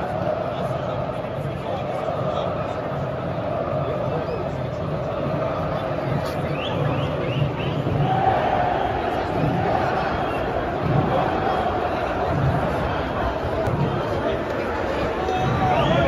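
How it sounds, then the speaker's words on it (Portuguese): A large crowd of Paraná Clube football fans outside the stadium before a match against Nacional murmurs and chants in a steady, dense roar, heard from a distance outdoors with nearby chatter mixed in. "Escuta o barulho da torcida aí."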